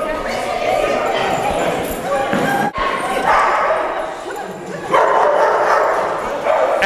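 Several dogs in an adult dog-training class bark, yip and whine excitedly all at once, a loud, continuous, overlapping chorus up close, with people talking beneath it.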